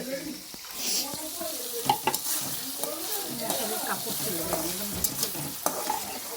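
Food stirred while frying in a cooking pot at an outdoor picnic, a steady sizzle under scraping strokes and occasional sharp clinks, with people's voices chattering through the background.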